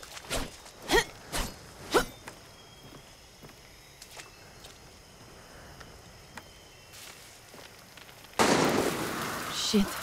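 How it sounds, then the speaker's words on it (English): Gunfire in Far Cry 6: several sharp, loud shots crack out in the first two seconds, then sparse faint pops over a quiet ambience with insects, ending in a burst of broad noise. "Shit, who's shooting?"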